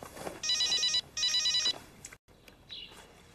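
A telephone rings with an incoming call in a drama scene, two bright electronic bursts back to back, clear and close, followed by quieter room sounds.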